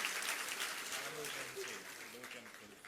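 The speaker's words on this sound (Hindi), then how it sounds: "आप लोगों की आलोचना करने के उपरांत भी तालियां मुझे दे रहे हैं" A seated audience at a religious discourse gives sustained applause, a broad wash of clapping that fades slowly while a voice talks over it.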